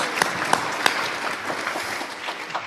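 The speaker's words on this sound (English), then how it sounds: "Let's give them a round of applause for hanging out with us." A small group claps steadily, with several sharper claps standing out near the start, moderately loud and close.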